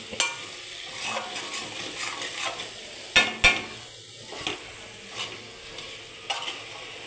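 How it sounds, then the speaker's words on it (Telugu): A ladies finger and tomato curry is stirred in a pan, with soft sizzling under scattered scraping and a few sharp clinks of a spoon against the pan. "5 నిమిషాల తర్వాత మూతను ఓపెన్ చేసుకొని ఈ మొత్తాన్ని బాగా మిక్స్ చేసుకుందాం"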